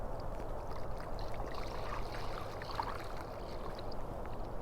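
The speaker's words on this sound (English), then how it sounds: "you fill it with some sugar water" Sugar water trickles and pours steadily into a bee feeder, a soft continuous gurgle close by, with faint clinks and no talking.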